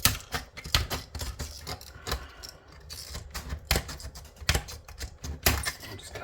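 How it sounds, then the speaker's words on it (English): A metal cutter snipping into vintage scrap electronics to take the top off, a series of sharp irregular snaps and clicks close up, with rattling metal between cuts and no talking. "Let's use the metal cutter so we can get the top off"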